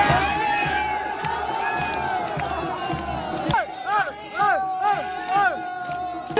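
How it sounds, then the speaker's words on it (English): A crowd cheers and shouts at a polo match in Pakistan as a dance party forms on the pitch. Loud, dense hubbub and yelling carry through, with rhythmic chanting or music-like calls rising in the second half. "The crowd was getting fired up, and a dance party slowly started to form in the middle of the pitch."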